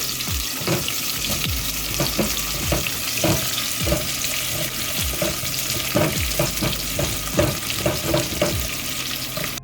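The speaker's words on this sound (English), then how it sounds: "cook until the onions turn into a slightly golden brown" Sliced small onions fry in a pan for a brinjal curry under a steady sizzle, with repeated clinks and scrapes from stirring throughout.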